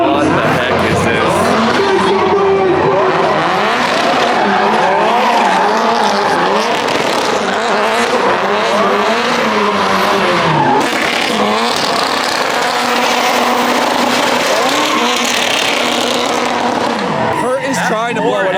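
A Hoonigan car with a K-Series engine skids and revs hard at an automotive convention, its engine screaming and tires squealing continuously and loudly, with crowd noise and voices mixed in.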